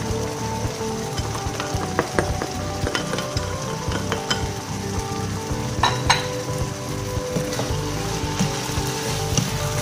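Beef frying in a pan with spring onions gives a steady, even sizzle broken by occasional light clicks of stirring, close and continuous with no voices.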